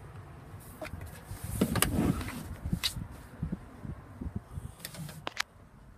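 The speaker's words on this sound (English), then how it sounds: "Power windows, all four doors." Power windows on a 2015 Kia Sportage LX moving, with a motor whir near the start and several clicks and thumps from the car doors, and no talking.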